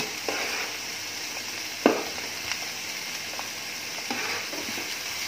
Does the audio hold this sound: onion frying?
yes